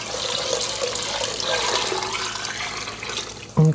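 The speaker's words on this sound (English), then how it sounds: "we're going to put in about 10 cups of water" Water pours steadily into a pot with a hollow, splashing rush, ending in a short louder clunk.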